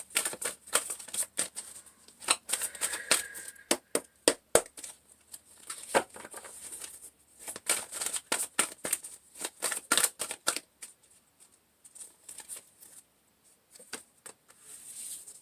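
Tarot cards being shuffled close up in bursts of quick crisp riffling and slapping, separated by brief pauses, fairly quiet with no talking.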